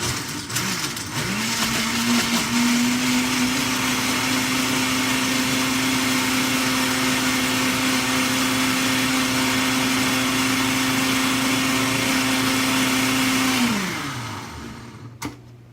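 A countertop blender whirs loudly and steadily for about twelve seconds while blending raw pizza sauce, spinning up at the start and winding down at the end, with no talking.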